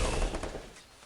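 Gunfire in a video game: a loud, close burst of rapid shots right at the start that quickly fades into a dull, lingering tail, with no one speaking.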